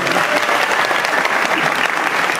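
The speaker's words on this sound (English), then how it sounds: "No, you can clap." Fan convention panel audience applauding, a dense, loud, continuous wash of clapping from a large crowd with a faint murmur underneath.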